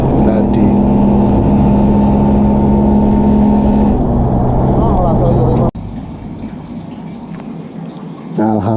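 A Vespa Sprint scooter accelerates on a wide road at night, its engine a loud, steady drone that rises in pitch, then cuts off abruptly and settles into a lower rumble under a voice.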